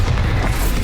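Bombarda blasting spell from the video game Hogwarts Legacy on Nintendo Switch, a short, dense boom with a heavy low rumble that fills the whole moment, loud and close with no talk.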